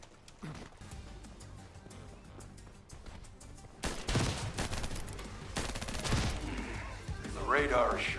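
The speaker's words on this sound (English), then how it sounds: "Just set off a few explosives." In The First Descendant, explosives go off in a dense barrage of sharp bursts and rattling blasts, louder and more chaotic in the second half, with a voice speaking partway through.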